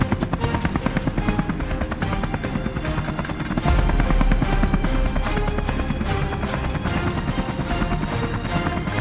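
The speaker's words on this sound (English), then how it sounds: "Helicopters are deployed as a proactive control solution" A helicopter flying for wild boar control, its rotor chopping loudly and continuously with a rapid steady pulse and engine roar, close overhead with no voices.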